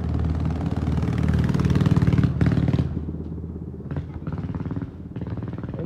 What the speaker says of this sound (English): You got damn loud ass scooter,